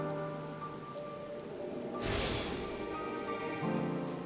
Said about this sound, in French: comme d'habitude, la pluie qui vient tout gâcher